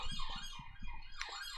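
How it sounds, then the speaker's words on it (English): A police car siren passes by, its wailing tone rising and falling over about a second and a half while low street rumble continues underneath. "Police car going by."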